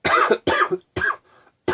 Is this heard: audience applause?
no